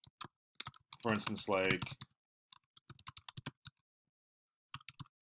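Typing on a computer keyboard while entering text into a Google Sheets spreadsheet: scattered quiet key clicks in short bursts, with a person briefly talking over the start.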